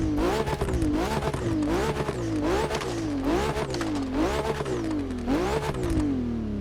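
A Ferrari F80 in the racing game The Crew Motorfest pulls away with a loud, steady engine note that climbs in pitch through repeated gear shifts, with no talking over it.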